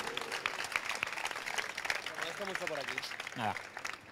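Scattered applause from a small group at a climbing event, fairly faint and uneven, with a voice speaking over part of it.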